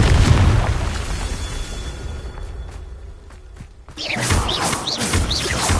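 Confringo explosion spell in Hogwarts Legacy: a deep, loud boom opens and rolls off into rumbling debris, then a fresh burst of crackling and clatter hits around the four-second mark.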